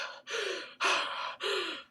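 A person imitates heavy, panicked breathing, with four loud, rasping gasps and exhalations in quick succession, close to the microphone and with no other talk.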